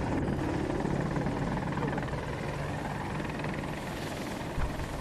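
Rotor and engine drone of an AH-64 Apache attack helicopter in a video game on the Hourglass map, a continuous loud, even whir with a low rumble throughout, no talk.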